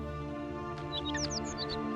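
Small bird chirps sound briefly and fairly faintly over a steady, loud tonal background hum, as a short burst of tweets in the middle of the clip.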